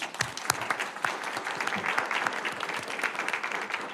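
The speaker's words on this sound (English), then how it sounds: "So quick round of applause." A modest crowd at a candidate forum gives a quick round of applause, with individual claps distinct and close, forming an uneven, lively patter that holds steady throughout.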